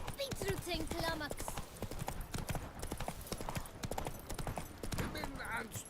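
Roach the horse trots in Witcher 3, hooves clip-clopping in a quick, close, even rhythm, with a voice speaking over the start and a short whinny-like tone near the end.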